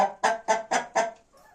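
Australorp and Adler hens in a cage cluck in a quick run of five sharp, loud calls close by, followed by a fainter trailing murmur.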